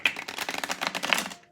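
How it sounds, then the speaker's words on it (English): Tarot cards being shuffled by hand, a quick run of dense papery riffling flicks that stop after about a second and a half, close and fairly quiet, with no talk over them. "a couple more shuffles."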